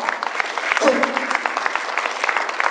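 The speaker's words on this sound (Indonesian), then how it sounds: "Beri tepukan." An audience at a product presentation claps, a brief burst of scattered applause heard in a room, with a voice briefly cutting through.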